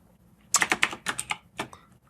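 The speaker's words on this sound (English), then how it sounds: "I'm going to type in the word answer colon space." A quick burst of keystrokes on a computer keyboard, about ten close, crisp clicks in two uneven runs with a brief pause between, with no talking.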